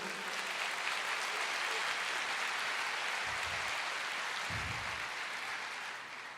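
A church congregation applauding during a sermon, broad continuous clapping at a steady level that eases off in the final second.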